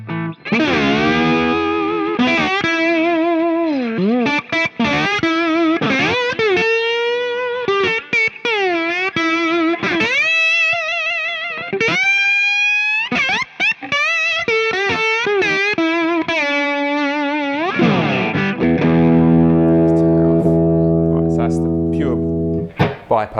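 Electric guitar through a crunchy, overdriven Friedman amp, playing quick licks and bends, then ending on a sustained, ringing chord. No voices.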